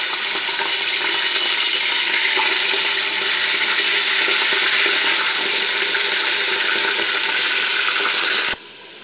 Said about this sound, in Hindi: हम थोड़ा सा कीमे को फ्राई करेंगे ऑयल में, ताकि इसमें कच्चापन ना रहे